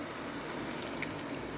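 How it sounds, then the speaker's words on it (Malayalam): Water from a mixer jar is poured over cooked cassava in a pot, producing a continuous splashing, trickling wash at moderate volume with no speech. "വെള്ളം കൂടി കപ്പയിലേക്ക് ഒഴിച്ചിട്ട്"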